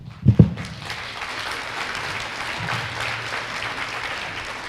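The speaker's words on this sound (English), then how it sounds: "I know you're not clapping because this is the last question." Audience applause fills the room, starting with a few louder claps and settling into steady, moderate clapping from a crowd.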